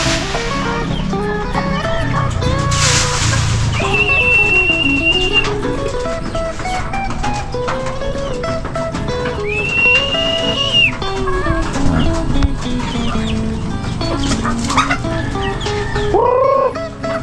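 Tethered backyard chickens cluck and chatter continuously at close range, with several drawn-out rooster-like calls rising above the flock's busy vocalizing.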